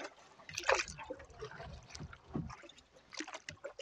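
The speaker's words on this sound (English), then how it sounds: "Nice little moonlight paddle." Canoe paddle strokes at night on a lake during a solo wild camping trip, with soft splashes and water dribbles repeating irregularly, close and fairly quiet.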